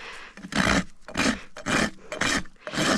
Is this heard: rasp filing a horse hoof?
yes